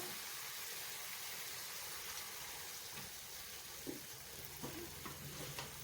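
Pork chops frying in oil in a covered pan, a constant hissing sizzle with occasional louder pops and crackles, steady throughout.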